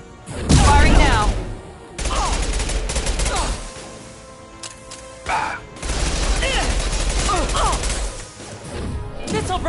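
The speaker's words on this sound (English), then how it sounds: "Firing now!" Heavy gunfire in the Mass Effect 2 combat game: dense, crackling volleys in two long stretches with a brief lull between, mixed with shouted voices and impacts.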